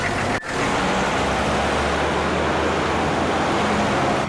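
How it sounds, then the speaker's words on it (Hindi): A car pulls away on a road, its engine and tyre noise forming a steady broadband rumble after a brief dropout near the start, fairly loud and close with no voices. "चल गाड़ी चला, चलो।"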